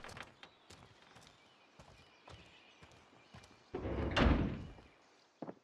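A door is forced open for a breach entry in Call of Duty: Warzone, a loud thudding burst following a string of sharp clicks and footstep-like knocks, with quieter taps after.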